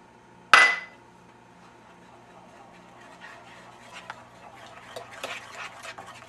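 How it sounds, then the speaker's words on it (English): A single sharp clink of a utensil against a pot opens, then soft, faint scraping follows as an egg yolk is quickly stirred into hot devil's food cake mixture just taken off the heat. "Once it's off the heat, we're going to quickly stir in 1 egg yolk"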